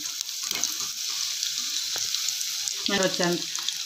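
Mirchi bajji, chilli fritters, fry in hot oil with a steady bubbling sizzle, close and continuous, joined late by a few brief clinks and stirring scrapes.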